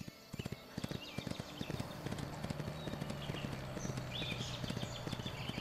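Horse hooves clip-clop steadily in a horse riding video game, a continuous rhythm of close, distinct hoofbeats with a faint low tone and soft background ambience, no talking.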